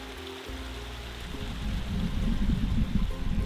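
Wilderness creek in Tahltan country, a continuous broadband rush of flowing water that grows louder and fuller after the first second and a half, with no voices.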